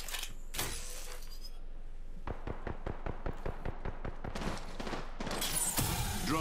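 Gunfire in Apex Legends, a rapid series of sharp close shots in a steady rhythm, followed by louder bursts and impacts, with no talk.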